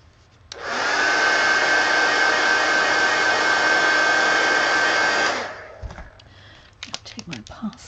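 A hair dryer blows steadily at close range for about five seconds while drying a mixed media collage art card, then clicks off, leaving faint handling noises.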